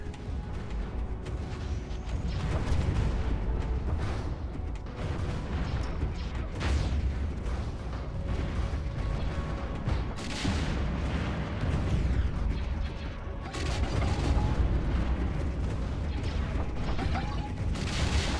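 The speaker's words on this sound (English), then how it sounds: "Small reinforcement fleet has arrived and is opening fire." Spaceship fleet weapons fire in Stellaris space combat, a dense, continuous barrage of booming blasts and bursts rolling over a heavy low rumble, loud and sustained throughout with surging intensity.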